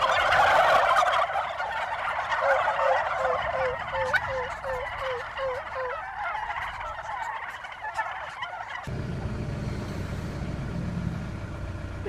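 Several turkeys gobble in quick repeated bursts, loud and close at first, then trailing into a rapid run of shorter gobbles outdoors, with a brief spoken question among them.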